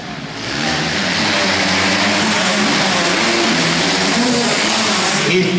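A motocross motorcycle engine roars loud and close at a one-on-one competition, holding a steady throaty drone for several seconds with slight pitch wavering, no speech heard.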